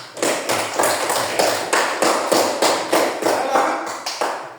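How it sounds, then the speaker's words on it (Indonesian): A classroom of students claps together in a steady, rhythmic beat, with about a dozen loud, evenly spaced group claps close by. "Oke, tepuk tangan dulu."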